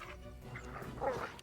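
Summoned dogs in the fantasy role-playing game Pathfinder: Kingmaker, giving short yips and whimpering barks over a muffled game background, fairly quiet and clustered over about a second.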